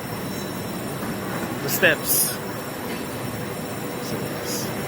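Trains at Beijing West Railway Station in China, a steady low rail rumble filling the platform with a couple of brief metallic wheel squeals, while a person talks over it.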